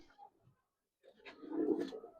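Highflyer pigeons coo nearby, a short soft call followed by a louder, fuller rolling coo.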